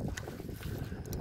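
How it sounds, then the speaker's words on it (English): Wind gusts buffet the microphone outdoors, a close, rumbling low roar that is steady and unbroken for just over a second. "Sorry, it's windy today."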